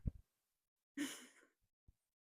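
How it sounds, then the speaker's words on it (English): Heavy breaths blown straight into a microphone: a short puff, then a loud, close, rushing exhale lasting about half a second, followed by a small click, with silence between. "Heavy breathing into the mic is a good sign."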